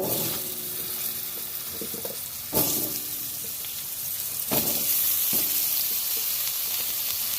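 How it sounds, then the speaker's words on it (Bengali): Potatoes frying in oil left over from pointed gourd give a steady, close sizzle, punctuated by a few sharp clatters of utensils against the pan. "পটল ভাজার তেলেতেই আমি আলুগুলোও ভেজে নেব।"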